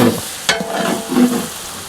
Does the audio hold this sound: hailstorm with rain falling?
no